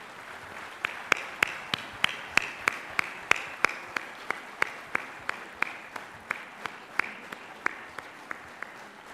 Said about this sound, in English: can we have a thunderous round of applause